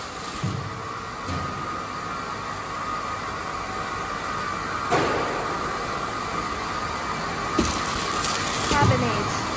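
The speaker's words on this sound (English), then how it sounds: "Now it's making the 140 millimeter rack beams." Rack beam roll forming machine making 140 mm high, 3,300 mm long rack beams, running with a steady mechanical drone, rattles and clicking ratchet-like knocks, plus a few louder clunks near the end.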